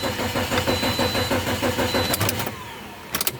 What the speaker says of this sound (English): Gonna start the car.